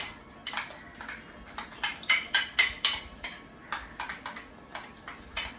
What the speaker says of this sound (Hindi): मैं इसको मिक्स कर देता हूं अब।